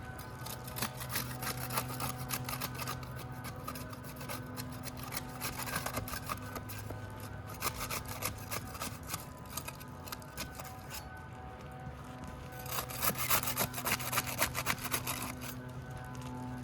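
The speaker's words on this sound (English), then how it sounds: "We'll get started with the putty knife. We'll use that to unseal the top shingle here." A putty knife pries and scrapes at the sealed top roof shingle, giving a continuous close rasping and rubbing with faint scratchy bursts over a steady background hum, no speech.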